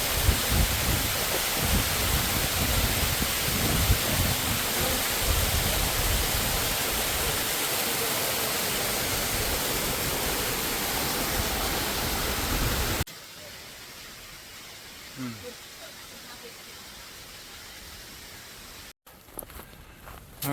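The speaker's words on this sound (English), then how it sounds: "Check out this waterfall." A waterfall beside a hiking trail roars as a loud, steady rush of falling water for about thirteen seconds, then cuts to a much quieter outdoor scene with faint sounds.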